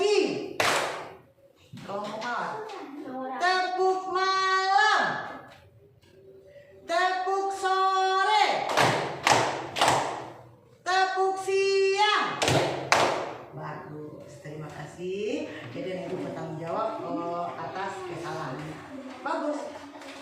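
Classroom of children performing a rhythmic morning clap chant, patterned bursts of hand claps alternating with chanted voices, with gaps and a teacher's voice between rounds.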